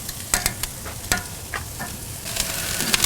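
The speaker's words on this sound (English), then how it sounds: "I'll take all these and flip them over and let them keep cooking." Chicken wings sizzle in an iron pan on a Kamado Joe grill, a steady close frying hiss broken by several sharp clicks and scrapes as they are turned, with no voices.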